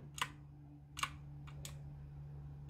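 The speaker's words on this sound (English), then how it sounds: "You can see yourself how fast it is typing" Four separate, faint keystrokes on a Magicforce Smart 2 mechanical gaming keyboard, each a sharp click with gaps between, over a quiet, steady room hum.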